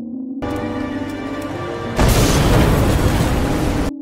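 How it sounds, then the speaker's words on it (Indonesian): A car explodes in a film, a loud burst of explosion noise erupting after a steady droning hum and rumbling on for about two seconds before cutting off. "mobil tersebut meledak saat itu juga"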